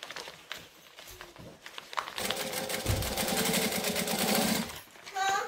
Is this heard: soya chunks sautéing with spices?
no